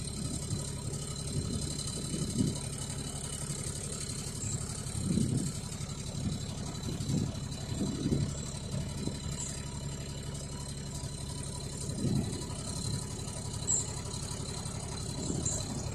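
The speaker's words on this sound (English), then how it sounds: "I'll just cut back the engine a little bit." A low boat engine, throttled back on a river cruise, chugs steadily with a rattling, throbbing rhythm, running at a gentle idle-like pace throughout, with no talking.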